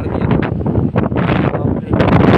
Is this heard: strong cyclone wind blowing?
yes